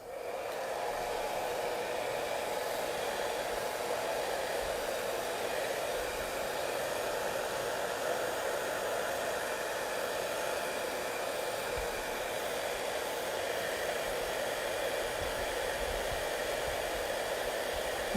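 A hair dryer blows steadily over wet watercolor paint on a foggy lake and pine tree painting, a continuous, even, fairly loud airy whoosh with no talking.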